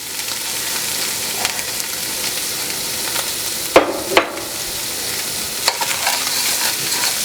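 Mushrooms fry in a pan of hot oil with a steady, soft sizzle. A few sharp scrapes and clicks of stirring stand out near the middle, with no voices.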